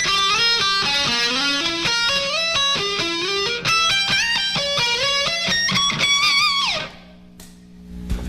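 Slow diminished run on electric guitar, a climbing sequence of distinct single notes moving up the neck position by position, loud and clear, ending on a sustained note that fades out.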